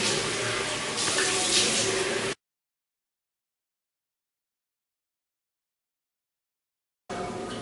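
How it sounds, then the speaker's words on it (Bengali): Water runs steadily from a tap while a face is rinsed after face wash, a continuous close splashing flow that cuts off abruptly into silence and then resumes at the end. "আলতো হাতে ফেস ওয়াশ করে নিলাম এবং মুখটাকে ধুয়ে নিচ্ছি।"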